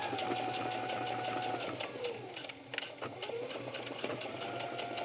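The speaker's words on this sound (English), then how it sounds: "Continue sewing off of the first card slot panel and then right onto the second." A sewing machine fitted with a nonstick foot stitches across card slot panels on a cork wallet, a steady close mechanical whir that dips in pitch briefly and then picks back up, with no voice over it.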